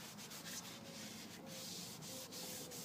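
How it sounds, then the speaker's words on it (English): Steady, soft rubbing of a hand working a finish into the wood and head of an old axe clamped in a vise, a continuous close hushing texture with faint periodic strokes and no talk. "just keep rubbing it in until it's pretty much dry from the heat of your hand"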